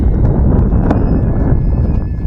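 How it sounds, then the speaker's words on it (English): Strong outdoor wind buffeting a microphone on a cool day of lake fishing, a steady loud roar of low rumble with scattered faint knocks and clicks. "The wind has not calmed down any at all"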